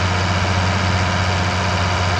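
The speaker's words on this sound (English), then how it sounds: "So that's going to be the tractor I use to bale hay and all that." International 5610 tractor engine in a farm sim game, a steady low idling drone with constant loudness and a strong low hum throughout, alone with no voices.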